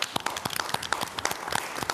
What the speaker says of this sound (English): It's okay to clap for that and celebrate.